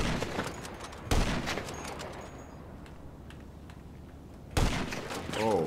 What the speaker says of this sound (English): How far can we get with this sniper rifle?